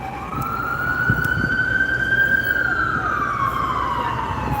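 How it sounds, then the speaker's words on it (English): An ambulance siren wails steadily and loudly over road noise, its pitch holding and then dropping as it moves past. "Let this ambulance pass by, guys, before I start talking."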